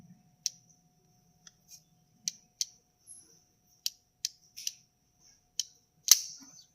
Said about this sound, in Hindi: जैसे जिसमें क्लिक की आवाज़ आएगी, हमें समझ जाना है कि जो कट ऑफ है वो हो चुका है